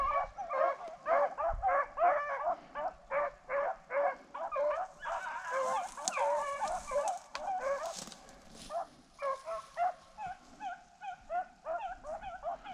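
Beagles on a rabbit hunt bay and bark in rapid, repeated bursts, several dogs giving tongue close by in an almost continuous chorus with yips and whines, thinning into scattered barks near the end.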